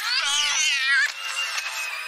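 A cat in the film The Emperor's New Groove gives a long, drawn-out meow followed by a shorter, fainter one, close and clear with nothing else around.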